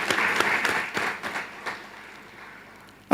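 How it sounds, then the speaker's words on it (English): Audience at a college graduation ceremony breaking into warm applause, a dense burst of clapping that swells briefly and then tapers off. "Let's warmly applaud our team."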